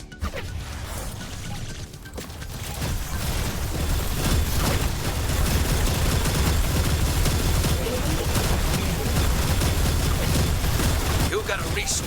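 Gunfire in the strategy game Battle Aces as a resource base comes under attack, sustained rapid crackling bursts and impacts layered over continuous game sound, with voice lines over the action.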